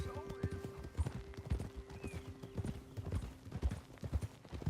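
Horse hooves clip-clop steadily in an unhurried walking rhythm in the Red Dead Redemption 2 video game, close and continuous, with low ambient sound beneath and no speech.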